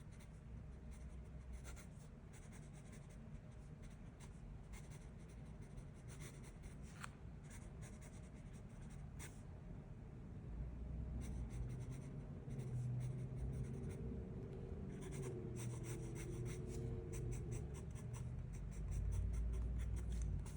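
A fountain pen inked with sepia ink scratches across paper with steady, close, quiet nib feedback in short repeated strokes, without any talk.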